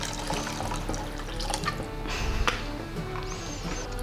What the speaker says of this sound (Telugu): ఇప్పుడు ఇందులో మరికొన్ని వాటర్ పోసుకొని